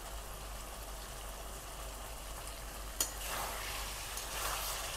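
Chicken tossed with salt and sprinkled garam masala powder sizzling in a pan, a close, steady frying hiss with a single sharp scrape of the spatula partway through.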